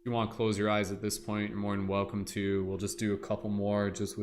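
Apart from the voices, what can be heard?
No everyday noise stands out behind the speech.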